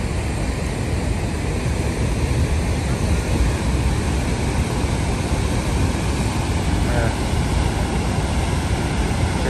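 Niagara Falls waterfall thundering as a dense, constant broadband roar that stays loud and unbroken throughout, with faint voices buried underneath.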